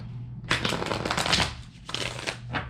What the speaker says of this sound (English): your tarot reading for the month is, I'll shuffle them one more time.